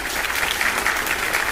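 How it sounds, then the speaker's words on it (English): A short burst of loud, close applause, a brief round of dense clapping lasting little more than a second and a half with no speech over it. "Round of applause."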